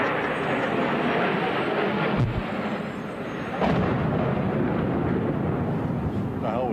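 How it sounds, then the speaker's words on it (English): A loud, sustained roar of rumbling noise with a sharp boom partway through, a plane crashing into the World Trade Center on September 11th amid commotion. "Sound like a plane crash."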